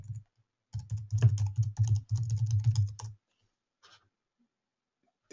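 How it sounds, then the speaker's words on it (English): A computer keyboard tapped in quick bursts of close, crisp keystrokes, with short pauses between runs and a few stray clicks near the end. "I can just quickly type in"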